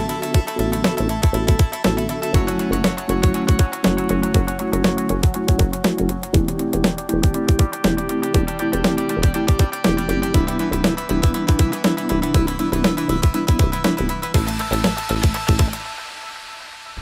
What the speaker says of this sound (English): the drum loop, bass line, chord sample, and the RP thing, along with all kinds of reverbs and delays